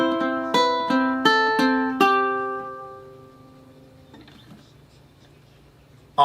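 Fingerpicked ukulele exercise: about six plucked notes in a steady arpeggio pattern, ringing and fading out, with faint handling noise afterward and no voice.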